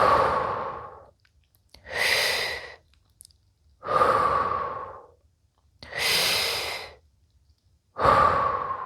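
During a fascial stretching exercise, slow deep breaths alternate between inhale and long sighing exhale, about four full cycles in steady rhythm, close and clear against silence.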